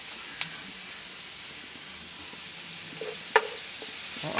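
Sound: onion, garlic, ginger and green chilli sautéing in a pan

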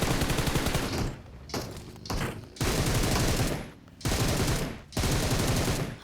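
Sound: gunfire shooting at boats in PUBG Mobile video game

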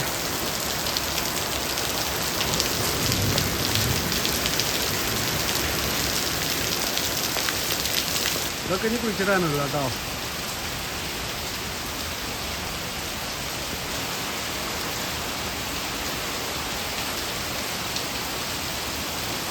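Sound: rain falling

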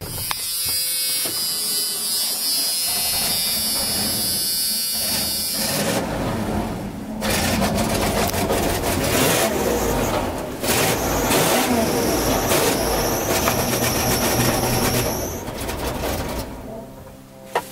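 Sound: 1994 Ford F-350 engine running

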